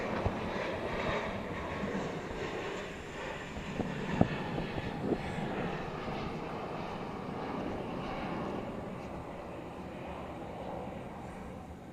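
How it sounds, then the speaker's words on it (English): A Qantas airliner moves under tow toward the terminal at DFW airport at night, a steady distant engine and vehicle rumble with a couple of faint clanks, no talking. "Looks like Qantas is finally on the move to the terminal."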